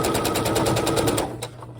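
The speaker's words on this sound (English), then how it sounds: "And I don't usually have problems with my sewing machine balling up when we start." A Brother sewing machine stitches in a fast, even mechanical rattle that runs loud and close, then stops abruptly, with a light clunk at the end.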